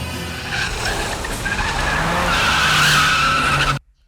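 A car pulls away hard, its tyres skidding and squealing as the engine revs up in a rising roar, loud and close, then cutting off abruptly.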